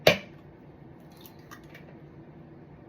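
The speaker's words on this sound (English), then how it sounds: "Now, I'm going to crack an egg." An egg cracks sharply against a bowl in a kitchen during pancake batter prep, one quick near crack followed by faint drips and squishing as the contents fall in.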